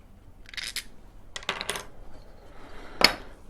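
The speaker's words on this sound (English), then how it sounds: "We'll remove this rear bolt." Metal clicks and scrapes while a rear bolt is removed from a motorcycle bag rider mount: three short, close clattering bursts spaced about a second apart, the last a sharp single clink.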